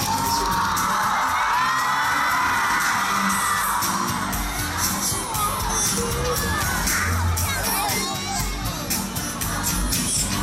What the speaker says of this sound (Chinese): 把掌声送给幸运的六位